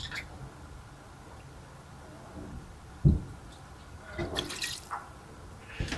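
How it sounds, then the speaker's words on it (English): Wine splashes briefly into a pan of seafood risotto with warmed mussels and their broth, a short liquid pour and a few drips over a quiet kitchen background, with no talking. "Add our wine."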